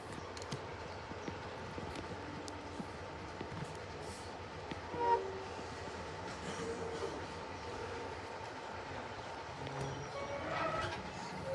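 A train departs Harmon's Cross station on the Swanage Railway during a diesel gala, heard from on board as a steady, quiet rumble and clatter of wheels on track, with a faint squeal and occasional bumps.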